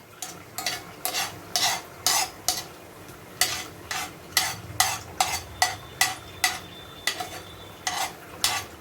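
Garlic sautéing in butter over low heat while being stirred: a quiet sizzle underneath steady, rhythmic scraping strokes, roughly two per second, close by with no talking.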